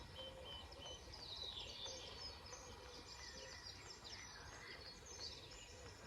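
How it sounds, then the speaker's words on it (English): A faint dawn chorus of birds comes from an outdoor camp in the Ouse Valley: many birds chirp and tweet over a low background hum, with steady layered calls and no voices. "It's a lovely dawn chorus of birds."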